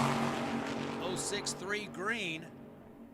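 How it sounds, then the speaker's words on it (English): A dragster tears down the right side of a drag strip at a Tucson drag racing event, a broad roaring blur of engine noise mostly buried beneath a loud announcer's commentary. "And the dragster streaks down the right side of the racetrack to the finish line"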